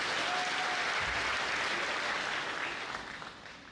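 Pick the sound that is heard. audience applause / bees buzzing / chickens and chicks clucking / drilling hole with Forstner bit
audience applause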